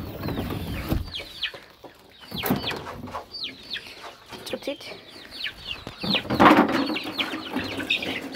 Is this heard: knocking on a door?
no